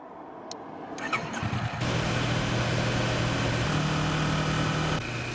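A Kawasaki Versys motorcycle on Highway 47 near Vernonia, Oregon: after a quiet moment and a few knocks, the engine rises into a loud, steady drone as the bike pulls away, then eases near the end.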